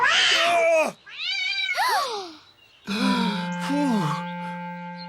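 Kittens meow repeatedly, high and close, with rising and falling cries and one drawn-out wavering mew.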